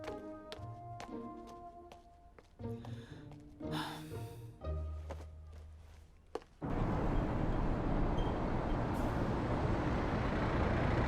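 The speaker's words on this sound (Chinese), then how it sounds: "这么巧，公交车来了" A city bus pulls in at a stop with a loud hiss of air brakes and heavy engine rumble, preceded by clanking, tapping sounds and followed by a steady broadband roar.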